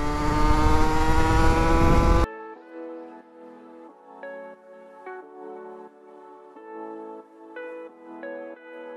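A motorcycle engine climbs uphill, a loud, strained drone for about two seconds before it cuts off abruptly, leaving quieter, tonal sounds.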